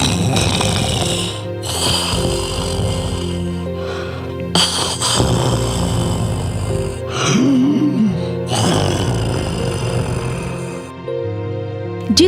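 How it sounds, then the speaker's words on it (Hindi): Monstrous snoring from a huge creature asleep in a cave, loud rasping snorts and gasping breaths in long repeated cycles, dense and close with a heavy low rumble, a sound effect for a horror tale. "एक भयानक राक्षस लेटा हुआ सो रहा था और भयंकर आवाज वाले खर्राटे ले रहा था"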